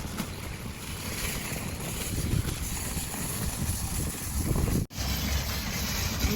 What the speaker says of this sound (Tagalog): Lakas ang hangin pa.